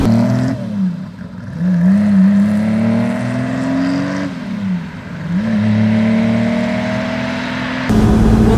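A 1959 Ferrari 250 GT Pininfarina Coupé engine drones and rises through the gears while driving, revving up, dropping at a shift, then climbing again in a steady close-up run with no talking.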